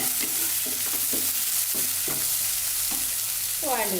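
Onions sauté on a medium flame for cauliflower kurma: a steady, close sizzle of frying with several scraping strokes of a spatula across the pan, then a brief ringing clatter near the end.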